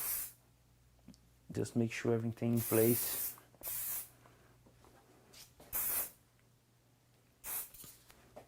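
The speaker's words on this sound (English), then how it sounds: "To apply my spray, just dust, and then I use my hands" Hair spray hisses onto hair in several short bursts, loud and close, separated by pauses, while someone speaks briefly between them.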